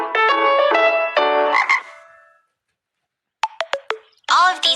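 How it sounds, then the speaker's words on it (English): Frog croaks ring out in quick pulsing bursts, then a short silence, then a string of sharp chirping calls and a final loud croak, close and clear. "These are fabulous frogs."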